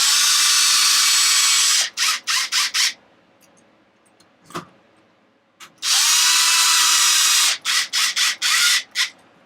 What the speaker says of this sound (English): We're going to drill them in.